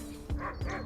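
A dog in obedience training gives two short, close barks in quick succession, with quiet background between them.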